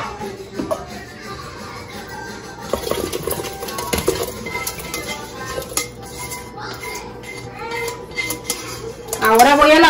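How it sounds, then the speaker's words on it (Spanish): Pots and utensils clatter in a home kitchen as contents are emptied into a cooking pot for fried chicken broth, with scattered metallic knocks and scraping throughout and louder clanks near the end; a voice speaks faintly in the background. "Esto que tengo aquí lo voy a vaciar a la olla."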